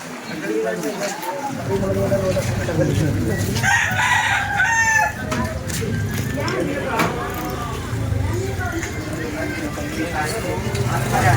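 A rooster crows loudly nearby, with clucking chickens and people talking over the birds throughout.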